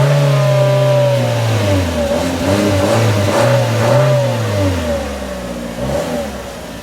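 A 2015 Chevy Trax AWD with a 1.4-liter turbo engine accelerates loudly, its engine note rising and falling in pitch through several revs, close to the microphone with no talking.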